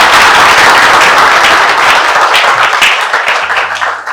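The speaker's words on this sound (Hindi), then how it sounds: "तो ताली हो जाए फिर एसएमबीडी के नाम पे।" Audience applause at a shipping career event, dense and loud clapping from a crowd that thins slightly toward the end.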